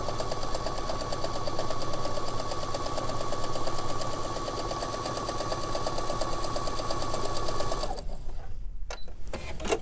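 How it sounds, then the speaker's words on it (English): A sewing machine stitches along a marked line on a sampler quilt piece, a fast, even mechanical chatter running loud and close for about eight seconds before it stops, followed by faint handling noises. "sewing on both sides of that mark line"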